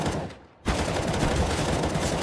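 Glock pistol gunfire in a competitive Counter-Strike match, a dense burst of rapid shots filling the clip after a brief quiet gap near the start.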